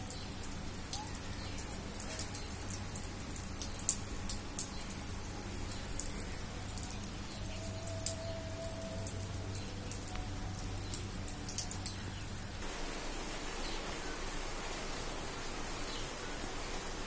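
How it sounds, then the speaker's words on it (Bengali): Steady rain patters on a house rooftop near a fruit garden, a continuous broadband hiss with soft drops close by and a faint bird now and then. No one speaks. "দেখো বৃষ্টি হচ্ছে ছাদে"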